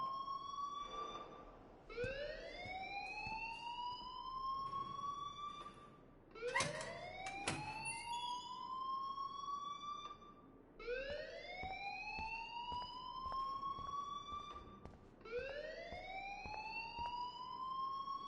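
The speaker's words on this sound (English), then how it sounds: "please turn off that alarm since that's your job" Inside the Strange Life video game, a school fire alarm wails in repeated rising sweeps, about five cycles, loud and steady. No voices break in.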